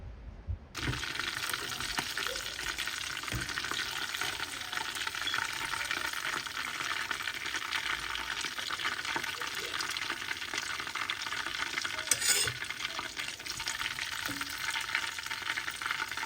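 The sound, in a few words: chicken being fried in a pan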